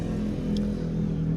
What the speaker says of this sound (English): Engine starts up right away.